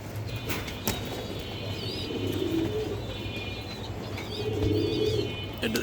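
Caged Budapest pigeons coo softly in a loft, with low repeated coos and a few faint chirps over a steady hum of background noise.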